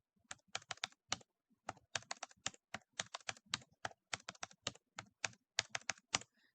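Numbers are typed on a computer keyboard in quick bursts of crisp, close key clicks separated by short pauses, with no one talking.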